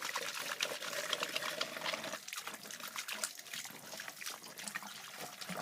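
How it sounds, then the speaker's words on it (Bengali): A water tap runs steadily for handwashing, a continuous splashing, trickling stream that stays fairly close and even throughout, with no voice over it. "সব করে জল ছেড়ে দিলাম।"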